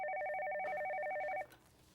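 A telephone rings in a fast, warbling electronic trill that is loud and steady, then cuts off abruptly, leaving quiet room tone.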